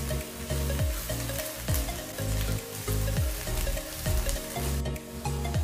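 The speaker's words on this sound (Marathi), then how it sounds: "आता कांदा आपण छान लालसर तळून घेऊया." Onion sizzles and fries in ghee in a pan for paneer bhurji, a continuous loud crackle broken by regular scraping strokes as it is stirred, with no talking.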